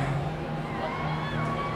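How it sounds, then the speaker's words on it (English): Concert crowd cheering and screaming inside a tent at a live rock show in Hackney, a steady dense roar of many voices held at even volume throughout. "A lot of screaming."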